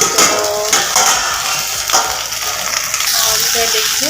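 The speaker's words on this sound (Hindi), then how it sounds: "इधर देखिए मैंने सब्जी आलू भिंडी का छौंक दिया है मिर्चा का तड़का देके" Chili tempering sizzles and spits in a pan of potato and okra curry, a loud, close, continuous frying hiss with faint clinks of a spoon stirring and some background sounds.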